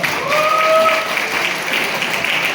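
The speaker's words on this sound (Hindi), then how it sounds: "मेरे बड़े भाई अरुण मोंगला सर के लिए बहुत जबरदस्त ताली बजाएं।" A seated audience at a company event claps enthusiastically, producing a full, continuous burst of applause that swells briefly and then holds steady.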